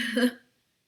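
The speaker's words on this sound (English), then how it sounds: "I got hiccups because I ate and talk" A single short hiccup from someone eating sushi and talking during a live meal. It is a brief, soft burst that fades quickly into silence.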